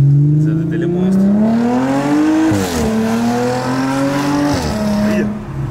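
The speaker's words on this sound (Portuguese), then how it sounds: "Olha a reduzida do carro, tio." A car engine revs hard in a low gear, loud and close, its pitch climbing, dipping at each shift and climbing again in a steady sustained roar.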